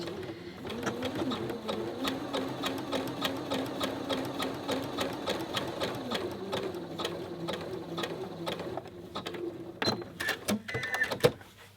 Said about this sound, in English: let's do some sewing on thinner fabrics